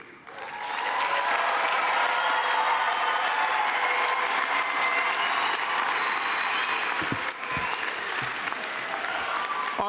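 A large audience at a university spring graduate commencement ceremony bursts into sustained applause, a dense, even roar of many hands clapping that swells in after a moment and holds steady for about ten seconds.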